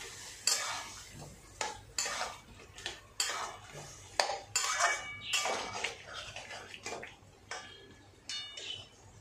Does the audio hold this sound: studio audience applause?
no